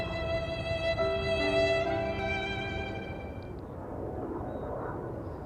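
A KLM jet, flight 713, taxis back to the gate at Amsterdam Schiphol Airport. A steady tonal engine whine with layered hum fades and thins after a few seconds into a softer background rumble.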